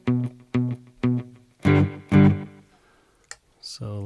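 Electric guitar played through the Flick effects pedal with reverb switched off, several short plucked notes and then two louder chords that cut off cleanly, heard close with no tail.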